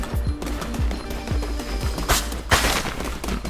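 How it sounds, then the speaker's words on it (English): Rocks being smashed in the game Cult of the Lamb, a run of punchy impact thuds and crunches with a louder burst of debris near the end, close and dense over game music, with no talk. "I can destroy rocks and stuff."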